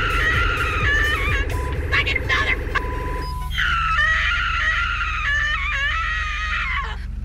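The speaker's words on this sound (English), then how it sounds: "Screaming gummy bear." A high, squeaky cartoonish screaming sound effect from a gummy bear, repeated in rising wails over a steady low rumble, loud and continuous for several seconds.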